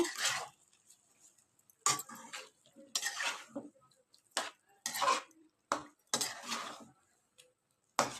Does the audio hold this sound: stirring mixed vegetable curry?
yes